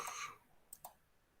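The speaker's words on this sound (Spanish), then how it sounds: "Cuando damos clic derecho, nos aparece un botoncito que se llama contorno" Two faint, quick right-clicks of a computer mouse come in close succession in a quiet room.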